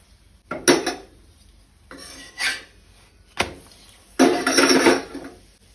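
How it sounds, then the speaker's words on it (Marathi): Puran poli being roasted and turned in ghee on a pan over a medium flame: a few separate bursts of scraping and clinking as the flatbread is flipped and pressed, with quiet gaps between them and no talk. "पुरणपोळी परतून घेवया"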